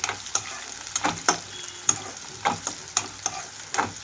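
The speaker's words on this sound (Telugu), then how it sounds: "ఇక్కడైతే హై ఫ్లేమ్లోనే ఉంచి వేయించుకుంటున్నాను." Chopped onions frying on high flame for a spicy chicken fry, a steady sizzle broken by sharp, regular spatula scrapes and taps about every half second, close and clear with no voices.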